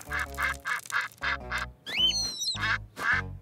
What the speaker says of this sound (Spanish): ¡Los patos!